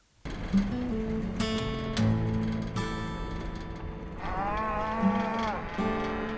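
Cattle on a Kansas farm bellow repeatedly in loud, drawn-out moos, several animals overlapping close by with a steady barnyard background between calls.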